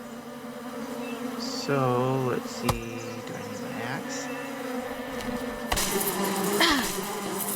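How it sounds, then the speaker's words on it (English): Bees buzzing in the video game Above Snakes, a steady insect drone running under a voice talking, with brief game effects and a busier burst of sound near the end. "Yep, the bees do get you."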